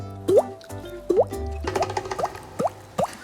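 A man vocally imitates water droplets, making six quick rising "plop" sounds in an uneven rhythm, close and clear against a faint low hum.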